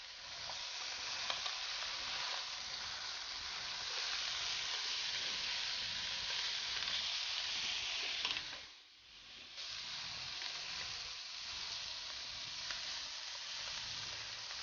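Fish frying in olive oil in a pan: a continuous close hiss of sizzling oil with light stirring and scraping, dipping briefly midway before resuming steadily, no voices.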